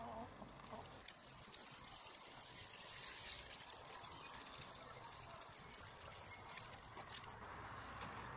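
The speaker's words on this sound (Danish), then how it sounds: "Tilfører bare noget vand." Water added to dried chicken manure fertilizer, a faint, continuous gushing and trickling pour that runs steadily for several seconds.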